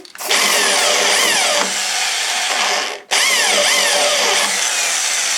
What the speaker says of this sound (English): So I have to enlarge the holes out a bit to get them in